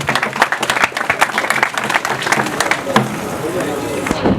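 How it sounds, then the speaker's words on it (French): Audience applause at an official ceremony launching the 2025 Exetat school exams in Baraka, South Kivu, a dense, continuous burst of many hands clapping with sharp individual claps standing out, filling the room loudly throughout. "Si nous pouvons l'applaudir très fort."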